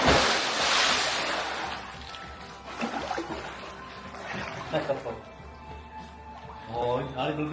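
Bubbling water churns in a cold swimming pool, a steady foamy hiss that swells and ebbs, with voices and soft chuckles breaking in over it.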